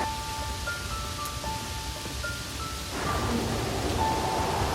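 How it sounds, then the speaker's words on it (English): Soft, constant rain falling in Hoi An, a steady hiss of drops that grows slightly heavier partway through, with faint tonal hums in the background. "The rain is soft and constant, bringing out colors,"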